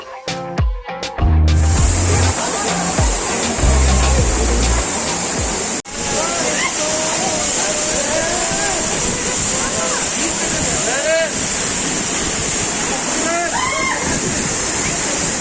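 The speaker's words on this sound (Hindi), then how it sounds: "और इस वाटरफॉल का नाम है बंगगोड़ू वाटरफॉल" Bangoru waterfall near Billing in Himachal Pradesh, a steady loud roar of falling water that runs through the whole stretch, with people talking over it and a few sharp knocks near the start.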